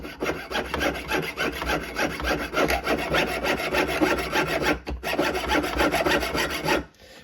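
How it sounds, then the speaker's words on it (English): Rapid, steady rasping strokes of a saw cutting out a small silver plate, close and continuous with a brief pause near the end, no voices. "I'm just going to saw this little plate out."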